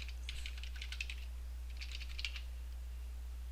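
Bursts of quick computer keyboard typing during Unity 5.3 scripting work, two clusters of clicks at close range over a steady low hum, with no talking.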